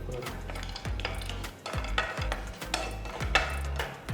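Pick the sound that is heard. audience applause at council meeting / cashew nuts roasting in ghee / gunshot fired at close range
cashew nuts roasting in ghee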